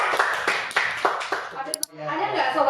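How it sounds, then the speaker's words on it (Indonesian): Several people clap in a small radio studio, a quick run of sharp, close claps in a steady rhythm that fades out, followed by brief talk. "Oke, kita kasih tepuk tangan."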